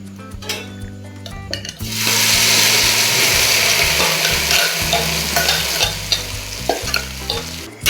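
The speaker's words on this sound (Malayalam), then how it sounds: "ഇനി ഇതിലേക്ക് നമ്മൾ ചതച്ച് വെച്ചിട്ടുള്ള തേങ്ങ ചേർത്ത് കൊടുക്കാം" Crushed coconut roasting in a pan for mango varattiyathu: a loud sizzle swells after a few faint clinks, while a spatula scrapes and stirs it in repeated strokes, near and with no speech.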